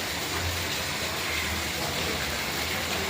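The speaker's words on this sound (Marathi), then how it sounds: "आज लई भारी पाऊस आहे" Heavy monsoon rain pours down steadily on a red-alert day, a dense, unbroken roar of rainfall with no pauses.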